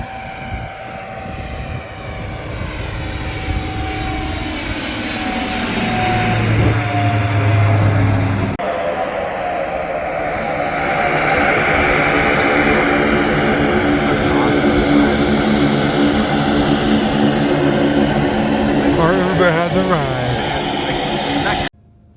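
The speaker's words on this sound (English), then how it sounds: "So wait for the plane to arrive." A propeller plane drones in the Yukon wilderness, its engine a steady, loud buzz that swells and shifts in pitch as it draws near, with a sudden change partway through.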